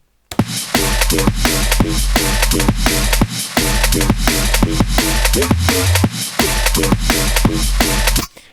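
A deep synth wobble bass line made in Serum pulses along with a punchy, repeating drum beat, loud and continuous with brief gaps between phrases.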